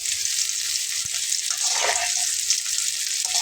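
Bitter gourd and potato fry together in hot oil in a pan, a loud close continuous sizzle with stirring scrapes and a brief knock, no voices over it.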